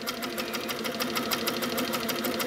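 Sewing machine running steadily at a moderate pace while free-motion quilting feathers, a close, continuous rapid needle chatter with an even rhythm and no talk.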